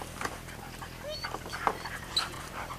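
Dogs at a Malinois training session pant and let out a few short, high whimpers, close by, with people talking in the background.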